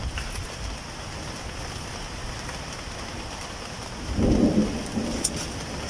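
Thunder rumbles low and heavy over steady rain during a cool-season storm near a mushroom-growing area, swelling loudest toward the end of the stretch with no voices.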